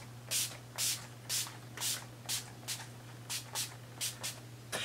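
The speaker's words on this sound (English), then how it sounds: "we're just gonna set our face with the Urban Decay All Nighter Setting Spray" Around ten short, close hissing bursts of Urban Decay All Nighter setting spray mist onto a face in a fairly even rhythm over a low steady hum.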